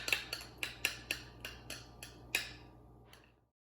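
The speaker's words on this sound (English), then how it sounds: "And then Julia is going to fold it in with our spatula." A spatula folds pumpkin puree into cupcake batter in a bowl, giving a series of soft scraping and tapping strokes in a fairly steady rhythm, close and quiet, with no talking.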